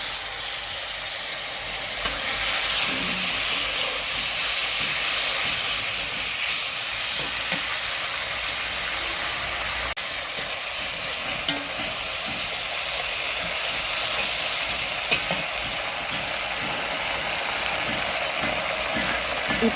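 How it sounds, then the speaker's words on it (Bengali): Water and spice water poured into a hot pan set off a loud, continuous hissing sizzle with steam that carries on evenly for the whole stretch, near and dense, with a few faint knocks and no talk. "এবার আর একটু জল দিয়ে মশলা ধোয়া জলটা দিয়ে দিলাম।"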